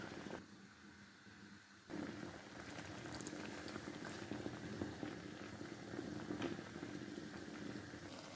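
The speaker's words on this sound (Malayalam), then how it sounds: "ആവശ്യത്തിന് വെള്ളം ചേർത്ത് കൊടുത്തിട്ട് നമുക്ക് തിളപ്പിച്ചെടുക്കാം" Prawn heads simmer in water in a pot for a curry, giving off a faint, soft, continuous bubbling and crackling that starts after a short quiet moment and continues to the end.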